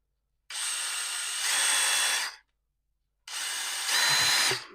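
A power drill running in reverse with a wool attachment scrubs shower valve threads in two close, steady bursts of about two seconds each, with a short silent pause between them.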